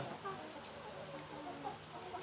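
Egg-laying hens in a cleaned chicken coop give soft, scattered clucks over a steady, noisy barn background, fairly faint and continuous with no voices.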